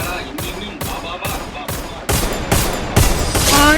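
Rapid, evenly spaced gunfire in a video game shooter match, around nine crisp reports in under four seconds, getting louder and denser toward the end, with faint talk underneath.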